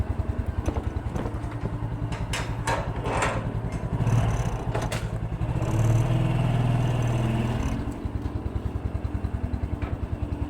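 A company work motorcycle's engine runs close by with a fast, even idle putter, swelling into two longer revs before settling back to idle; no one speaks.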